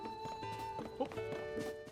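A horse walks at a stable in Zelda: Tears of the Kingdom, its hooves clip-clopping in a loose rhythm against game music, with a few clearer hoof thuds near the middle.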